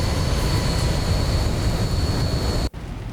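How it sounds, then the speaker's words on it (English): Steady, loud broadband rumble of a Boeing 737-800 cruising through a rain cloud in the X-Plane 11 flight simulator, continuous engine and airflow roar with a thin whine above, cutting off abruptly near the end before resuming more quietly. "that's basically a plane in the middle of a rainy cloud"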